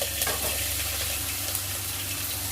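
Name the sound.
tomatoes added to a frying pan, sizzling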